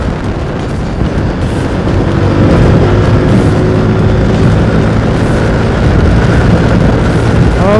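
A Yamaha NMAX scooter fitted with Aerox gear ratios revs and pulls hard, its loud, strained whine climbing steadily as it accelerates close by, with no talking.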